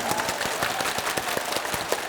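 Audience members at a Dubai festival closing ceremony clap hard in a brisk, continuous flurry of loud, crisp handclaps, close and unbroken for about two seconds.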